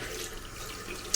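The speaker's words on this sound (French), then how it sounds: "j'ai rincé mon visage" Tap water runs steadily into a bathroom sink while a face is rinsed, a soft continuous rush with no talk over it.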